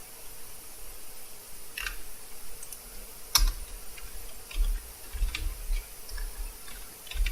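Typing on a computer keyboard while writing Excel VBA code, sparse, quiet key clicks with a few sharper taps, close by and without talk.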